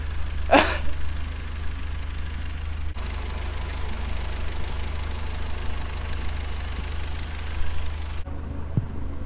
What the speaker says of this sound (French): je pense que vous entendez un petit peu au ralenti la sonorité de la ligne